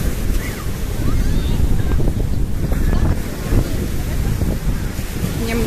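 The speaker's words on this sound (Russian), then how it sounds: "Немного моречка вам в кадр." Sea waves wash and break steadily on a sandy beach at Nikolaevka, Crimea, with wind buffeting the microphone throughout.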